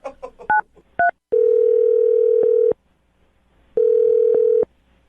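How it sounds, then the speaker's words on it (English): A telephone handset sounds a few quick dialing tones, then two long steady tones separated by a pause, loud and clear with no one talking, before a call goes through on a radio show. "I'm going to dial the phone number, get him on the phone, and find out why he's not calling you back"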